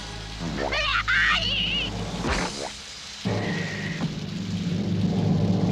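Cartoon rain and thunder from the animated Shazam series, a broad hissing downpour with rumbling bursts mixed among squeaky cartoon voices and sound effects.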